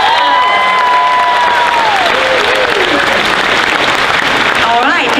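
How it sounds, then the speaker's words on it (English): A convention crowd at a Dragon Con Friday night costume contest bursts into loud, sustained clapping with scattered cheers and whoops, continuous for several seconds. "Give her a big round of applause."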